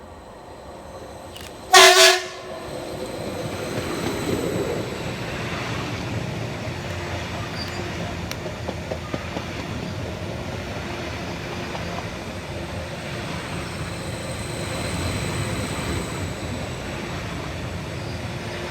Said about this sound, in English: Next up, passing fast for Greater Anglia is 7:45:010, working 1 Bravo 35 from Stansted Airport through to London Liverpool